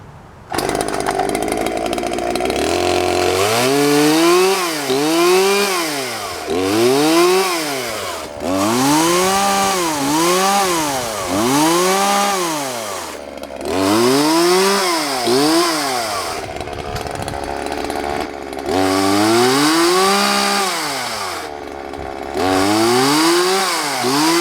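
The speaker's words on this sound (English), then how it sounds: "A very nice running Homelite Ranger." A vintage Homelite Ranger 16-inch chainsaw runs close and loud, its engine repeatedly revving up and dropping back to idle in a cycle of rising and falling whines, with a dull chain.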